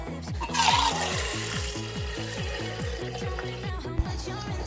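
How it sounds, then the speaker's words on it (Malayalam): Soaked urad dal is rubbed and washed by hand in a bowl of water, rhythmic sloshing and swishing strokes repeating steadily, close and moderately loud, no talk. "ഇനി നമുക്ക് കൈ ഇട്ടൊന്ന് ഞെരടി നല്ലതുപോലെ ഒന്ന് കഴുകിയെടുക്കാം."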